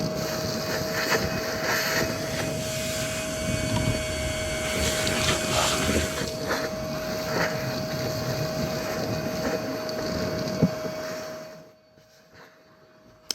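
A vacuum cleaner hoovers up rusty metal pieces, droning with a steady whine and rattling debris for about eleven seconds before cutting off abruptly, followed by near silence and a final click.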